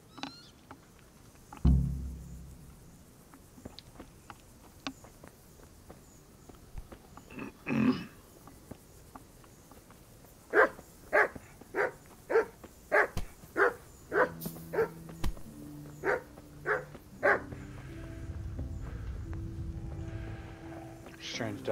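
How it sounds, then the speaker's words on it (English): A dog in a video game barks in a run of sharp, repeated yaps, some spaced out and then a quick cluster, over quiet game ambience, with a person talking at times. "Strange dog."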